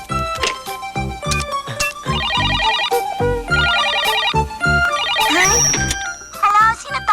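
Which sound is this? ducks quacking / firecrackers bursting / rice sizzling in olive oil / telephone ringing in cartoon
telephone ringing in cartoon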